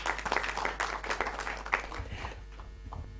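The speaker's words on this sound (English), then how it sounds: "I think you can sit down to a round of applause." Audience at a regional meeting of African national commissions for UNESCO applauds, a moderate burst of clapping that thins and fades over a steady electrical hum.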